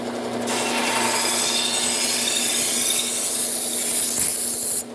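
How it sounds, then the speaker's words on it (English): Knife blade sharpened on a Cubitron P120 abrasive belt running at slow speed, a steady close grinding rasp with a constant motor hum that starts abruptly, holds evenly for several seconds and cuts off, no voices. "We're going to use the Cubitron P120 belt on our buck tool slow speed."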